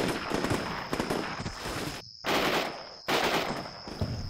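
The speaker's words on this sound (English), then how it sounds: "The American elite snipers engage my Madrasa patrol in long-range firefight." Dense bursts of small-arms and sniper fire crackle through a simulated modern firefight, rapid overlapping shots with a high ringing tone, broken by two short near-silent gaps before the shooting resumes at full intensity.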